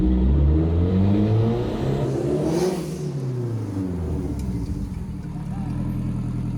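Car engine on a test drive with freshly checked brakes, revving and rising in pitch, loud and close, then easing back to a steady drone.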